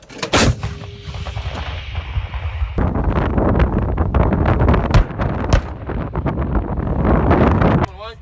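An M777A2 howitzer fires with a sharp, loud blast, followed by a long rolling rumble and wind buffeting the microphone, with a second sharp crack later and voices nearby.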